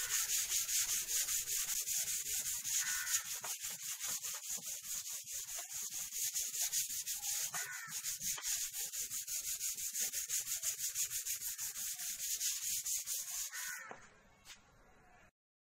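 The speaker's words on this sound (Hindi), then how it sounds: "उसके बाद में इसके ऊपर 150 नंबर या 220 नंबर का रेगमाल लगा लेंगे।" An old wooden table being sanded by hand with 150 or 220 grit sandpaper, fast rhythmic back-and-forth rubbing strokes, close and steady for most of the clip before stopping abruptly near the end.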